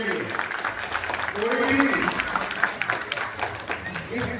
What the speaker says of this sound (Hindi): जोरदार ताली मिला हमारे नेतृत्व के लिए